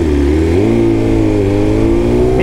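A BMW big bike revs close by, its engine note rising steadily with strong harmonic tones for a couple of seconds.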